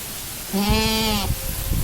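A goat bleats once in a stall, a single loud, close, wavering cry lasting under a second, with faint rustling around it.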